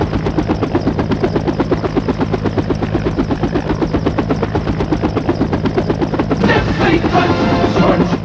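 Anti-aircraft gunfire in a Disney Vietnam War comedy film: loud, rapid, evenly spaced bursts run continuously, then give way to a rougher, noisier roar near the end.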